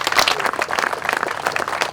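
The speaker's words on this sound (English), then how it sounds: "how about a round of applause for your families who put up with this?" A crowd applauds during a senator's visit to the southern border, dense continuous clapping that stays moderately loud for the full two seconds.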